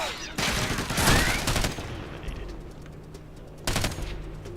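Gunfire from weapons in the video game Ghost Recon Advanced Warfighter, a loud rapid burst followed by quieter ambience and a second short burst near the end.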